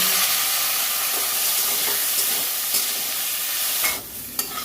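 Ground vegetable stem paste fries in a pan with a loud, close, steady hiss and sizzle, a few stirring knocks, then the sizzle drops away abruptly near the end.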